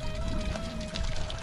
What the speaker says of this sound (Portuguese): A água está a correr daquele lado.